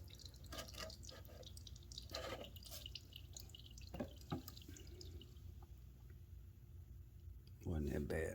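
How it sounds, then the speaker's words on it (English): Fluid drips from a lawn mower after a bolt is loosened, leaving a few faint, scattered drops close by, with someone talking over them. "Yeah, it's dripping."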